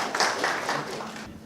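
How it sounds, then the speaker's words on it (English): An audience at a session on habit claps in a short, moderately loud burst of applause that fades slightly over about a second and a half. "Can you give a round of applause?"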